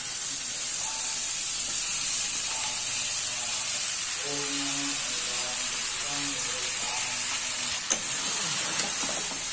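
Flattened rice (poha), washed and drained, tipped into a hot pan for masala poha; a steady sizzling hiss runs throughout with faint scraping and stirring, and a brief clatter near the end.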